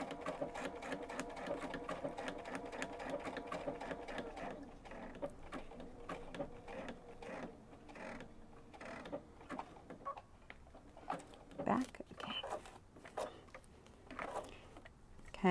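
Sewing machine stitching Cuddle minky plush fabric for appliqué, a rapid rhythmic needle clatter running steadily, then slowing into shorter stop-start bursts as the fabric is pivoted, with a voice speaking over it.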